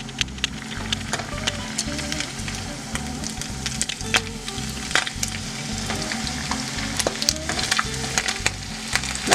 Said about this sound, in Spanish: Ya vamos a poner nuestros taquitos a dorar. El aceite ya está caliente.